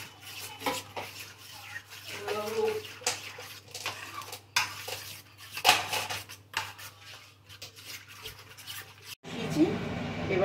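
Ingredients for dahi chutney toast being mixed in a bowl, with clinks and scrapes of a utensil against the bowl at a steady pace, plus a louder rush of noise near the end.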